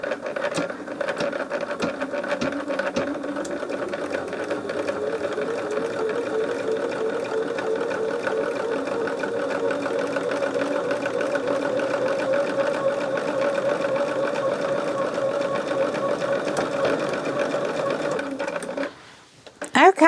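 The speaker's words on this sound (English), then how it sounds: "I'm going to top stitch it with my sewing machine." A sewing machine top-stitching a small quilted bag runs continuously at a steady whirring, rattling pace for most of the clip, then slows and stops near the end.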